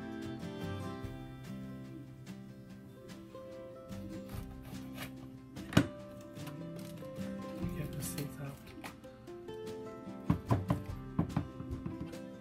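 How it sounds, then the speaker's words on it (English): Knife slicing green pepper thinly on a cutting board, with soft irregular cuts and a few sharper knocks, fairly quiet over faint background hum. "We cut the pepper."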